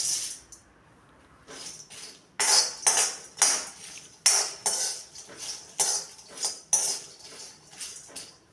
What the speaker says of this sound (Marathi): छोटी इलायची घेतलेली आहे, हे पण भाजून घ्यायचं आहे.